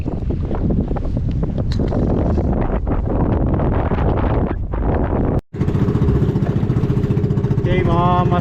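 Strong wind at sea buffets the microphone aboard a small fishing boat, roaring and gusting under a running motor, cutting out briefly then returning with a steady engine drone.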